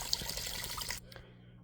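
Water poured into a pot of seasoned chicken with bouillon for chicken pot pie, a close splashing pour that stops abruptly, leaving a faint trickle.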